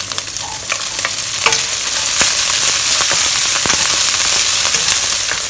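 Prawns and char siu roast pork frying loudly in a hot pan, a dense close sizzle broken by sharp crackles and repeated scraping stirs, with no talk.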